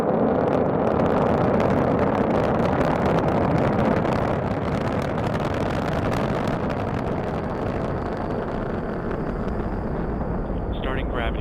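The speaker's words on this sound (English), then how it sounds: "launch of the SpaceX Falcon 9 rocket" A SpaceX Falcon 9 rocket launch roars continuously as a dense, loud, broadband rumble that holds steady and fills the whole stretch, fading slightly toward the end.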